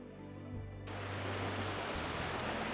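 A small stream in the Vosges forest near Lac de Xon flows with a steady, soft broadband rush that rises and thickens partway through, faint and continuous with no voices.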